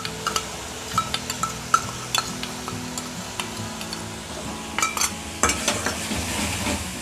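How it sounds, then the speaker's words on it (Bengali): Ginger, garlic and green chili paste frying in a wok, with a steady low sizzle under repeated scraping and stirring, metal clinks and clatters of a utensil against the pan throughout. "এবার আমি কড়ার মধ্যে আগে থেকে আদা রসুন আর কাঁচা লঙ্কা যে বেটে রেখেছিলাম সেটা দিয়ে দেব।"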